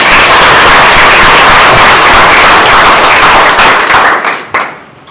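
Loud, dense applause from a conference audience at an open-source talk, with sharp clapping filling the room before it tapers off near the end.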